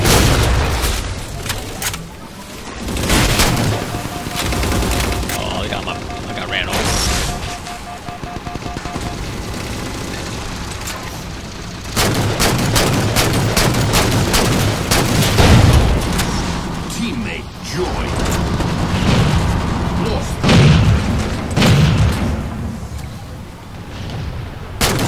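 DMR rifle gunfire in Halo 4 during a Big Team Infinity Slayer match on Ragnarok, repeated sharp shots and booming explosions throughout, with voices talking over the action.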